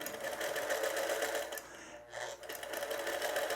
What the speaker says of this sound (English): I love sewing on this featherweight